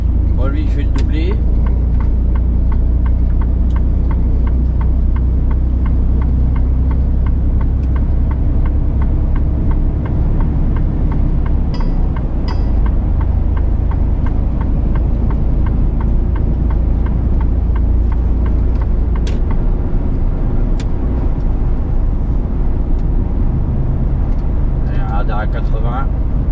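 A car cruising on a road in the Vosges in Alsace overtakes another vehicle, a steady loud engine and road drone that swells slightly, with someone talking over it.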